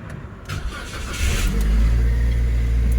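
A Toyota Avanza engine cranks briefly, catches and settles into a steady, loud, close idle, with a low rumble holding through the rest.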